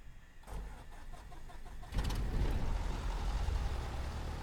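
A Cessna C152 engine cranks and catches in MSFS 2020, a brief low rumble of starter turning over before the engine fires into a steady, louder running drone, heard alone without talk.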